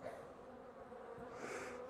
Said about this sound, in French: on va refermer histoire de ne pas trop énerver les abeilles